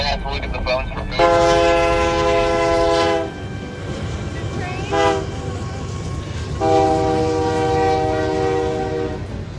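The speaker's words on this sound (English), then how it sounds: "Yeah, train, Bubba." A freight train rolls through Toyah, Texas, sounding three long, loud horn blasts over a steady near rumble of wheels and cars, with a voice briefly heard early on.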